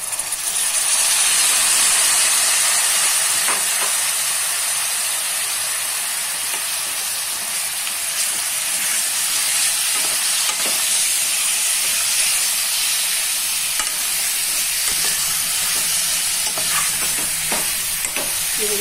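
Mutton sizzles loudly in a pan over a high flame for a potato-and-mutton curry. A dense, constant hiss and crackle carries throughout, with faint stirring knocks underneath and no voices.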